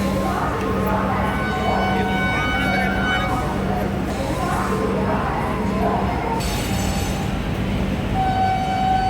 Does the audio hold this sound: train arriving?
yes